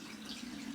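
Homemade almond milk is poured into a bottle, giving a brief, soft, continuous watery trickle heard up close.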